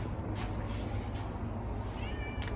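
A cat meowing out on a road, a few short, fairly faint meows over a steady low background rumble, with no one speaking.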